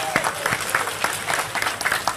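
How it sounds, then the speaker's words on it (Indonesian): Audience in a Ramadan religious gathering in Purworejo claps for a regional DPR member, a dense, steady burst of applause from a modest crowd that lasts the whole moment. "Tepuk tangan dulu kangge Pak DPR."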